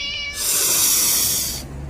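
A cat gives a short meow, then a sharp, breathy hiss lasting over a second, close and loud, before it cuts off abruptly.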